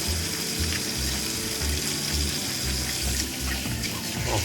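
Tap water runs steadily and rushes over a bicycle disc brake rotor being rinsed in a sink, a close continuous splashing hiss with faint rhythmic low knocks underneath and no talking.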